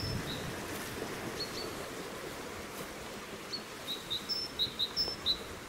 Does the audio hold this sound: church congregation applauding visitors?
no